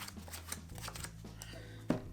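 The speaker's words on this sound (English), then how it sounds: "I'm going to deal out 5 cards to each person" Playing cards are dealt out for a four-player poker hand of five cards each, giving soft, quick repeated flicks and slides of cards landing close by.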